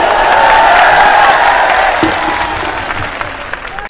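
Audience at a political speech in Bhopal breaks into steady, dense applause that holds strongly, then gradually thins and fades toward the end.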